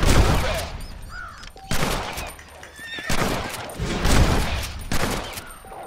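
Sharp revolver shots ring out repeatedly during a Mexican shooting contest in Red Dead Redemption 2, roughly half a dozen loud cracks with echoing tails, with a horse's faint whinny in between.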